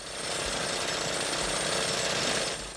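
A lawnmower engine runs loud and steady throughout a 1991 movie scene, a harsh continuous mechanical roar with no pauses.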